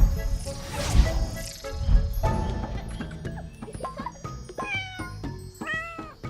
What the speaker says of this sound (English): that type of cat makes a much better pet than a tiger